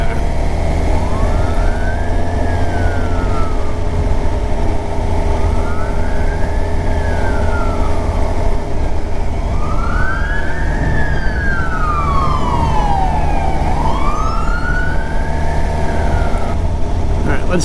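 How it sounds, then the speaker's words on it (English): An emergency siren wails in slow rising and falling sweeps over loud road and engine noise from a 2024 Suzuki GSX-R750 motorcycle being ridden, growing stronger as it passes nearby. "I hear a siren."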